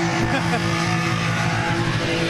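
Race cars roar continuously at a Palm Beach International Raceway track event, a steady loud engine drone throughout with no break, and a voice talking faintly underneath.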